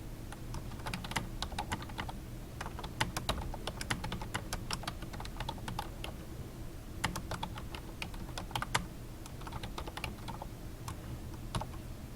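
Clicky keystrokes on a computer keyboard come in quick irregular bursts with short pauses, faint and close, and no one speaks.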